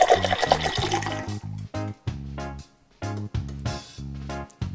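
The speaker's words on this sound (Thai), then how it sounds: "ต่อไปเรามาเทน้ำของเรานะคะลงในแก้วเลย" Yellow fruit and vegetable juice from a toy juicer set is poured into a glass. The liquid splashes and trickles in short, close bursts separated by brief pauses, with no talk.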